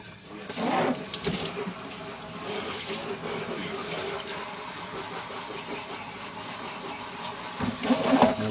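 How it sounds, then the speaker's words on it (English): Hot tap water runs and splashes over a Nike Air Force 1 shoe in a sink, a steady close gush with sloshing changes as the shoe is moved under the stream, swelling near the end. "that was hot water that I rinsed with"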